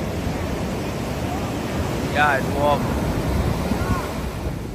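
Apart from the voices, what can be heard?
ocean waves surf at Kuta Beach, Bali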